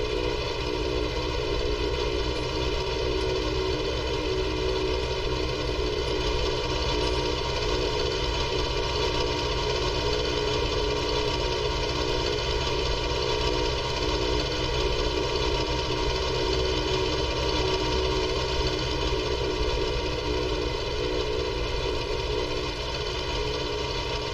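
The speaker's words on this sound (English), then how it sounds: "Great little tractor to start ourselves up." A small farm tractor's engine runs steadily at idle, a continuous droning hum with a fine vibrating rattle, close and unchanging throughout with no talk over it.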